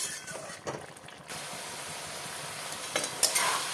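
A dried prawn and vegetable dish cooks in a pan as the lid goes on, with a steady close hiss of frying and simmering broken by a few light clinks and stirring sounds.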